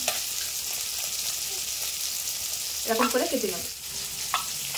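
Small puti fish frying in a pan, a steady moderate sizzle running throughout while someone speaks briefly partway through.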